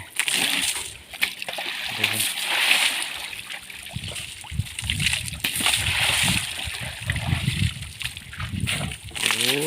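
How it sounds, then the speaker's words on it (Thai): Water splashes and sloshes continuously as someone plays in it to cool off on a hot day, with someone talking over much of the sound. "ผมพาน้องโพงเงินมาเล่นน้ำคลายร้อนนะครับแม่แม่"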